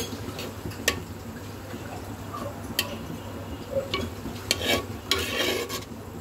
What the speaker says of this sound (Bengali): এইবার আবার মিক্স করে দেব।